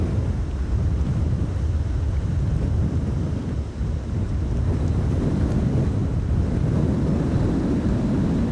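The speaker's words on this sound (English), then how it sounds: "Wind is blowing from the west." Strong westerly storm wind at Schiphol Airport during Storm Amy buffets the microphone in a steady, loud roar, with gusty low rumble throughout and no voices.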